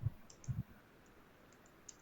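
A computer mouse clicks during SAP software work, a few quick soft clicks close together near the start, then near silence.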